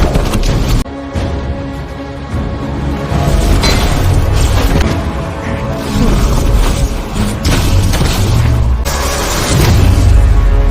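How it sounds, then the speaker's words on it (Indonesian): Loud booming blasts and rumbling crashes roll on continuously, heavy and close, with repeated impacts layered over a deep, churning roar. "Ledakan dahsyat yang terjadi di bawah membuat Ra lengah."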